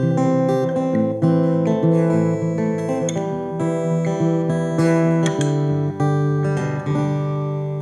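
Acoustic guitar played through an Orange Crush Acoustic 30 combo and picked up by a microphone, heard as a continuous, steady stretch of strummed and picked chords that rings close and full, with no talking.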